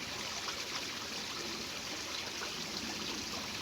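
Water from a garden hose pours steadily into a pond's bottom drain during a winter clean-up, a constant close trickling and streaming hiss with no pauses and no voices.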